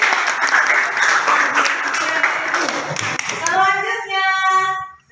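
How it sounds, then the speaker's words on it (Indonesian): Children in a classroom clap together in a lively burst that fades out, and a voice rises at the end. "Iya bagus. Tepuk tangan."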